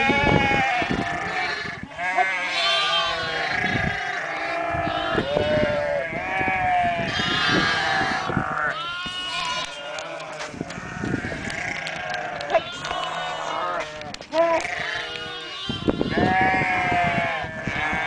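Lambs bleating as they search for their mothers, many overlapping cries from a flock, loud and continuous, with some sheep and goat-like calls mixed in.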